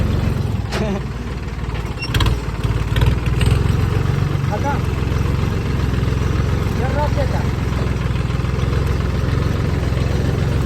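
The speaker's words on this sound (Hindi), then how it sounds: "हम लगा ले ट्रैक्टर चला ले" A tractor engine runs steadily throughout at close range, a continuous mid-low idle rumble with occasional clanks, beneath people talking.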